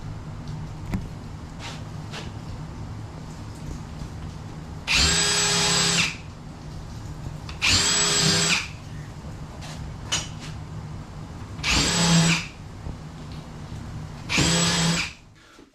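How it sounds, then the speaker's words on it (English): A power drill fitted with a countersink bit bores pilot holes into a wooden acoustic panel frame, four loud bursts of roughly a second each separated by quiet pauses, close up with no talk. "I'm going to drill pilot holes with"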